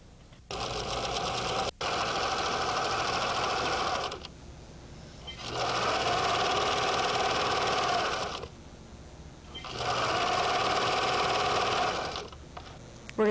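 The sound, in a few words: sewing machine sewing quilt blocks together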